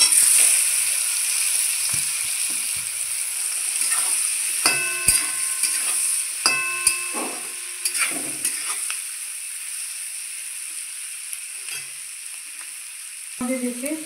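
Onions sizzle steadily in hot oil in a wok while being stirred for chicken biryani, with a few sharp metallic clinks of the spatula against the pan early on, then the frying settles into a quieter hiss.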